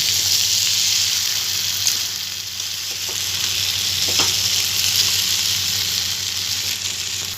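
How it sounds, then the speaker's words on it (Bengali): Bhetki fish bones sizzle with spices in a hot pan, a steady, loud frying hiss that runs continuously with a few faint scrapes of stirring, and no voices. "কাঁটাগুলোকে দিয়ে মশলার সাথে ভালোভাবে কষিয়ে নেব।"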